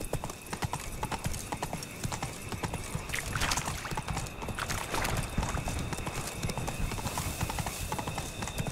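Horse hooves galloping in The Witcher 3 video game, a rapid, steady clip-clop throughout with a brief neigh, loud and close over background game sound.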